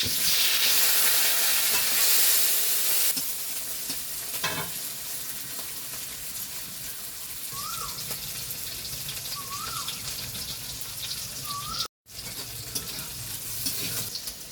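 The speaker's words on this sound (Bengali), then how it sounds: "পেঁয়াজ কাঁচামরিচ ভাজা হয়ে গেছে।" Onion and green chili fry in hot oil with panch phoron, giving a steady, close sizzle that is loudest at first and then settles. There is a brief stirring clatter, and no one talks.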